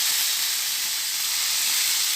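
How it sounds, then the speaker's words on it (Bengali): Fish frying in a pan, a loud, steady hiss of hot oil sizzling without pause, close and alone. "মাছটা ভাজিয়ে নেব"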